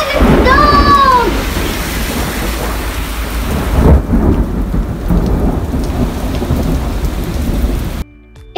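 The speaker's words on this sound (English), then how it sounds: "Oh, we can be in a storm!" A loud thunderstorm used as a green screen special effect, with heavy steady rain and rumbling thunder filling the scene, a voice briefly heard near the start.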